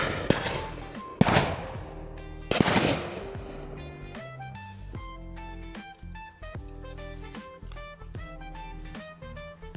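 Shotgun fire at a driven partridge shoot, heard as a few sharp reports early on, mostly distant, before a sustained tonal musical passage takes over.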